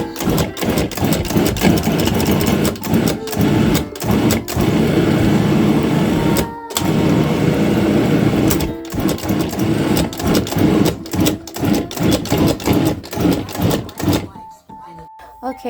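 A blender pulses sofrito ingredients for Puerto Rican sofrito in loud, choppy bursts that start and stop repeatedly, close by, with a brief pause near the end.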